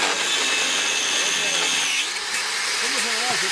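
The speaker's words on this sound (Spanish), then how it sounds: "Ahí tenemos como le están cortando los sobrantes al tornillo para poder cepillar" A power tool grinds steadily through the excess ends of bolts at a timber splice during a Maya pole-raising event in Pujayo, loud and continuous, with voices talking over it near the end.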